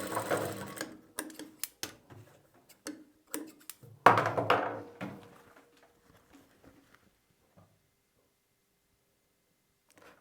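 A sewing machine stitches a dotted blouse in short, irregular bursts of rapid ticking, loudest near the middle, then tapering into sparse faint clicks and near silence.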